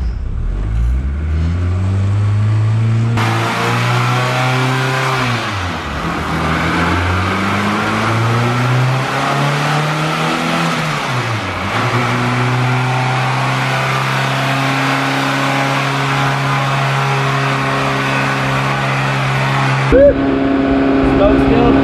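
A car engine revs and pulls hard while being driven, its pitch sweeping up and down through repeated acceleration runs, loud and close throughout with no talk.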